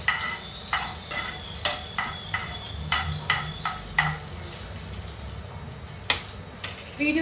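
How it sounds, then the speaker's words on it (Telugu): Dry fruits fry in a small pan for payasam, a soft background sizzle broken by a series of sharp, regular clinks and scrapes of a spoon against the pan, close and clear. "పాయసానికి డ్రై ఫ్రూట్స్ ఫ్రై చేస్తున్నా"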